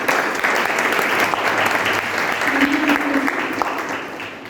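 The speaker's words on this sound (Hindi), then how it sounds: "तो उनके जोरदार तालियां।" Sustained applause from a workshop audience, a dense steady wash of many hands clapping for the full length, fairly loud and close, with a faint murmur of voices underneath.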